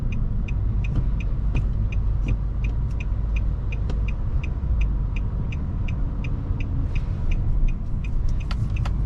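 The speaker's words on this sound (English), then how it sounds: "let's do one more 0 to 60" Inside a 2020 Nissan Maxima SV, the engine rumbles steadily as the car accelerates from 0 to 60, with a regular ticking chime repeating over the continuous road and motor noise.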